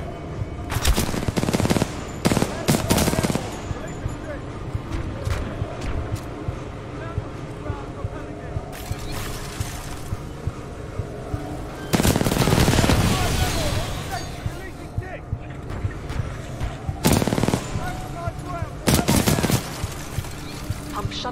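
Loud close gunfire in the Titanfall 2 game, with several heavy automatic bursts set against a steady mechanical rumble and a voice talking between the volleys.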